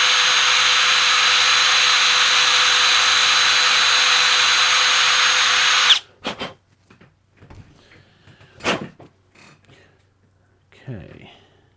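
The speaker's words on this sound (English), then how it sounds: "Right, let's just ream this out some more." A power drill reams out a hole, whining loud and steady for about six seconds before stopping abruptly, followed by quiet handling knocks and clatter of the workpiece.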